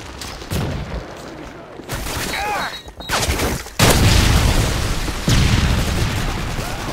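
Predator missile strike in the video game Modern Warfare 3 on the Arkaden map, loud booming blasts and bursts of gunfire layered over a busy, roaring battle soundscape.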